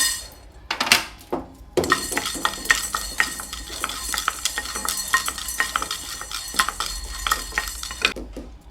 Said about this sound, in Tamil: இது ஒரு 2 நிமிஷம் வறுபட்டால் போதும்.